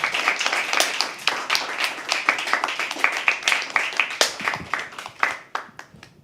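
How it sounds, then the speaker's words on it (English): An audience at a live poetry open mic claps as a performer walks to the stage, a brisk crowd of hands pattering densely and then thinning slightly toward the end. "Keep clapping till he comes on stage."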